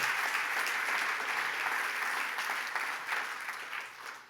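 A church congregation bursts into warm, sustained applause for the Lord, many hands clapping at moderate loudness before gradually thinning and fading near the end.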